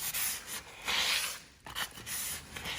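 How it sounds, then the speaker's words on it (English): Close-up rasping and scrubbing strokes of a sanding tool rubbed back and forth over painted trim with filled nail holes, with a short pause midway. "the importance of using these sanding tools"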